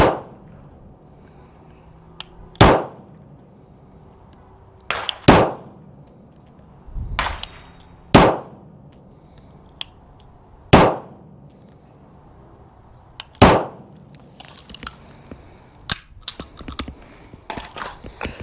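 An M17 pistol fires single shots at a shooting range, loud sharp cracks spaced a few seconds apart, some in quick pairs, with faint clinks and handling noises between them.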